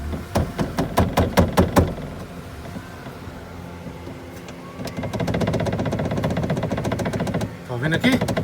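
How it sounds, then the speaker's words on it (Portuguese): A door on a Mercedes A-Class 160/190 with the window half open gives a rapid series of sharp rattling knocks, first in bursts then in a steady buzzing stretch, close up, while someone talks. "Barulho da porta, é isso que você ouve"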